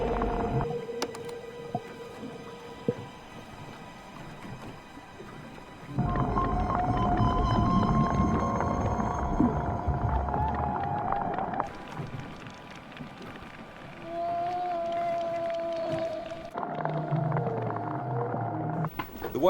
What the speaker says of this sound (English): It's definitely a whale.